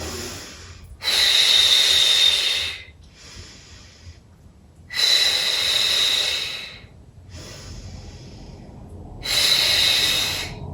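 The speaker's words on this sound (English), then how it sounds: "Lovely deep breaths." Slow, deep breaths during a gentle stretching routine, three long, loud airy inhalations or exhalations, each a couple of seconds, separated by quieter pauses, close and alone.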